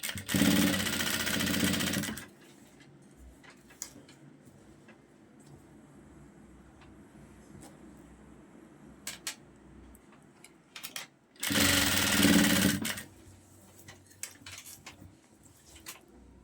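A sewing machine stitches a fabric strip for a chatta patti corner, with two loud steady whirring bursts at the start and near the end and quiet handling and faint shuffling in between.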